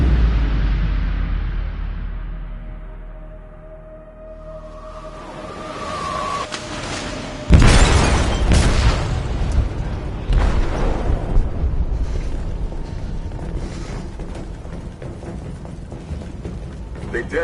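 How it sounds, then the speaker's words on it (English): An explosive detonates in a ship's hold in Detroit: Become Human: a deep rumble fades, then a sudden heavy boom hits, followed by sustained crashing and roaring debris noise that lasts many seconds. "They detonated an explosive in the hold."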